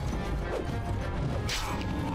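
Weapon strikes during combat in the video game Dragon Age: Origins, dull thuds and a sharp crash over a dense, noisy battle soundscape, heard without talk.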